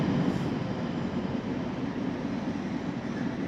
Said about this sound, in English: oh, this train is going to Lübeck